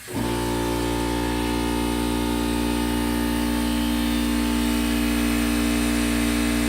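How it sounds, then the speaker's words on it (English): An air compressor runs steadily and loudly close by, starting abruptly and then holding a constant motor hum with strong tonal whine throughout, with no talking. "the compressor kicked in"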